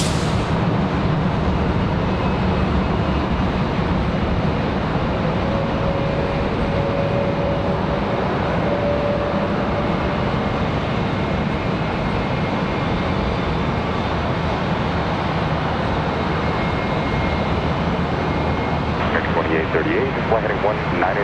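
Airliner taking off at Charlotte Douglas airport produces a steady broadband jet roar that stays loud and constant throughout, heard from a distance outdoors.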